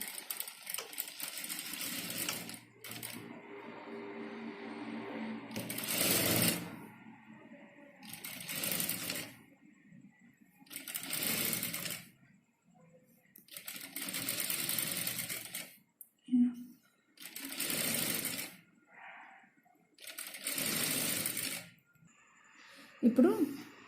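A sewing machine stitches a cross piece onto a cotton nighty in repeated bursts of whirring, each a couple of seconds long, with pauses and soft handling in between and someone talking during the gaps.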